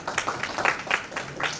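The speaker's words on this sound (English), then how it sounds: "Thank you guys for the clap" A conference audience at a developer tech event claps for a speaker as he takes the stage, a steady wash of applause at moderate level with no voices.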